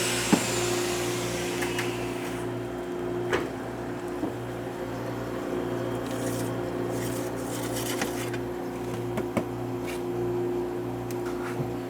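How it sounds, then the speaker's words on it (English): Air rushes back into a Cube freeze dryer chamber through its opened drain valve, giving a steady, even hiss over a low machine hum with a few faint clicks. "Now we want to open the drain valve and let the air back into the chamber."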